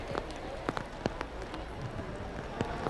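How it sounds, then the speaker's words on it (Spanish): Rain falls in a street near San Dionisio during Holy Thursday, a soft steady patter with occasional sharper drops, fairly faint, with no talking. "Fíjense ustedes cómo llovía esa hora en la que les"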